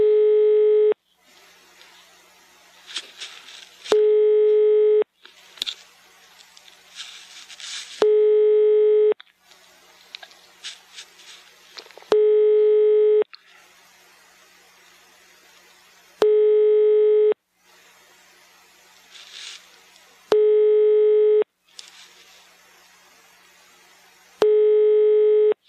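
A telephone line gives repeated tone bursts, like a busy or dial signal, alternating at regular intervals with stretches of quieter background sound over nearly half a minute.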